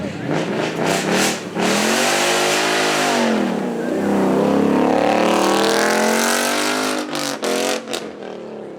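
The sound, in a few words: Ford Mustang engine roaring at supercar event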